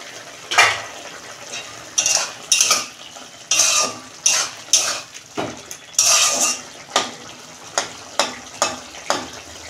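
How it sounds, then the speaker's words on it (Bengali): A lid comes off a pot of mixed vegetables simmering in a little water, giving a series of sharp metallic clinks and clatters of cookware with scraping between them, close by and with no talking. "দেখুন বন্ধুরা, ঢাকনা খুলছি"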